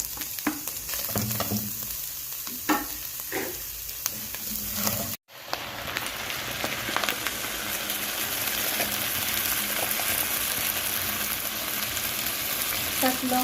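Ground meat and hotdog fry in a pan for Filipino sweet spaghetti, crackling sizzle with stirring scrapes and clinks; after a brief cut, a denser, louder continuous sizzle fills the rest.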